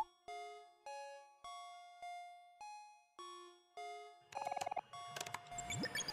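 A mobile phone ringing in the OMORI video game, a melodic ringtone of bright, evenly spaced chime notes, each ringing out and decaying, followed by a faster, busier burst of electronic tones.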